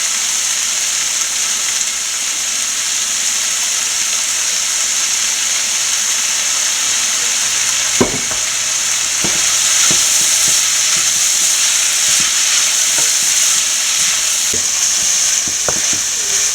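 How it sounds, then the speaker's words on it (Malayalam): Chicken and vegetables fry steadily in a pan for chicken fried rice, a continuous sizzle with occasional sharp scrapes and clacks of stirring scattered through the second half; no voices. "നമ്മുടെ വെജിറ്റബിൾസും ചിക്കനും നല്ലപോലെ ഫ്രൈ ആയിട്ടുണ്ട്"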